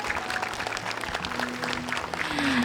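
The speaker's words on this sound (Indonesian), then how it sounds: "Oke, tepuk tangan dong." Studio audience applause on a televised health talk show, a continuous, full clapping wash with some crowd noise and a faint tonal hum underneath, steady throughout.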